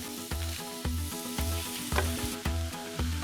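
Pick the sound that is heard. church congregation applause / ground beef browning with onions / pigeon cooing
ground beef browning with onions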